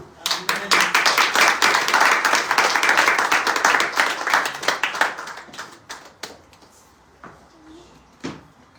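A church congregation breaks into lively applause, dense clapping that holds for several seconds and then thins into scattered claps, with some voices mixed in.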